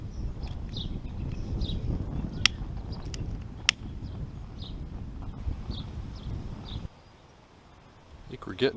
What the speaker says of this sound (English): Too much wind today.